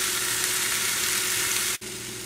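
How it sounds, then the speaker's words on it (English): Vegetables sizzle steadily in a pan over a moderate flame as they sweat for a chicken curry, a close, even frying hiss that drops out briefly near the end. "after 5 minutes of sweating these vegetables on a fairly moderate flame"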